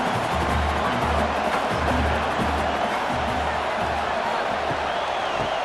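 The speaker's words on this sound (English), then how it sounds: "this crowd coming to life here, trying to help the defense get a stop" In a college football video game between the LSU Tigers and South Carolina, a stadium crowd keeps up a constant, loud roar with a rhythmic low pulse repeating underneath.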